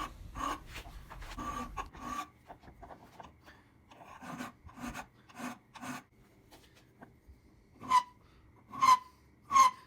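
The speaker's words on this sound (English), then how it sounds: "I use a small round file to get all into the nooks and crannies of the maker's mark" A small round file rasps by hand across a hand-forged maker's mark in a run of short, scratchy strokes with uneven gaps, quiet and close. Later strokes carry a ringing metallic squeal.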